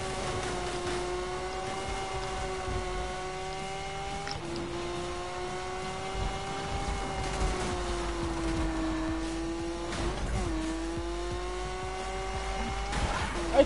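A video-game car engine drones steadily with shifting pitch, joined by tire squeals and skids over several seconds, loud and continuous with no voices.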